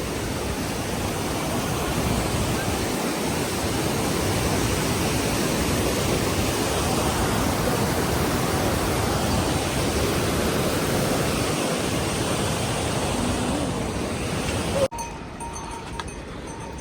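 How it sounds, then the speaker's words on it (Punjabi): A fast-flowing mountain stream beside an old bridge on the Hemkunt Sahib trek roars loudly and continuously, a dense broadband rush of water that drops away sharply just before the end. "ਦੇਖੋ ਫਿਰ ਪਾਣੀ ਚੱਲ ਰਿਹਾ ਤੁਹਾਨੂੰ"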